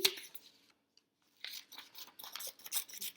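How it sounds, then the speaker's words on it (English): Scissors snip colored paper into squares, producing a quick run of crisp close cuts and paper rustles after a short quiet gap, with no talking. "I'm just cutting it into basically kind of squares."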